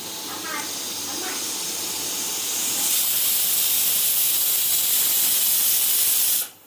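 A pressure cooker whistle releases steam while ghee rice cooks on a home stove, a loud steady hiss that swells partway through, holds, then cuts off abruptly near the end.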